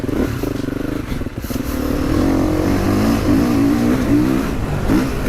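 A GASGAS dirt bike engine at half throttle gives a loud, close, steady buzzing drone that swells slightly and holds with a gritty mechanical rasp, with no talking over it.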